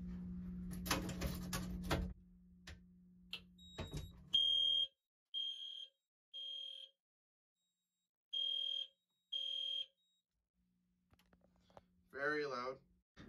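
During a bedroom fire alarm test, after some clattering and rustling, a fire alarm sounds a series of shrill, evenly spaced beeps, then a voice speaks briefly.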